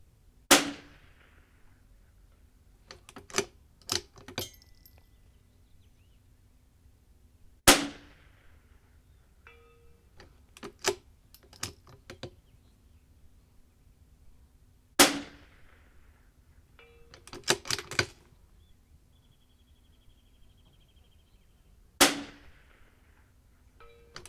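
.22LR rimfire shots from a Vudoo V-22 rifle at a range, about four sharp, spaced cracks, each followed by faint metallic clangs of steel hits at a 300-yard target.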